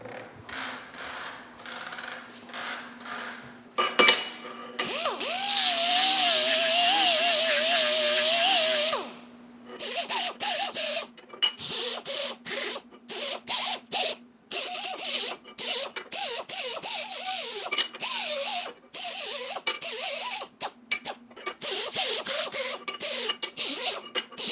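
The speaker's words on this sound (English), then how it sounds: "we're gonna go ahead and hit these with the sanding disc very lightly" A sanding disc lightly works metal parts in a shop, giving one sustained rasping pass, then a run of short, choppy scuffs with small gaps between them, close and fairly loud over a low steady hum.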